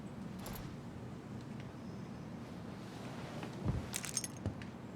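Car keys jangle in the video game Tell Me Why, a few light metallic clinks and a short rattle over a low steady ambient hum, fairly quiet and without talk.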